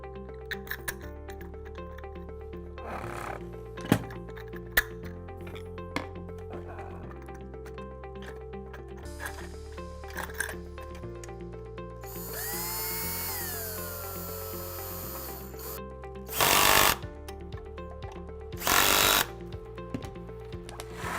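The small plastic wheel gears of a Polaris Vac-Sweep 280 pool cleaner click and whir steadily as a wheel turns, with a few louder buzzing bursts of motor noise toward the end.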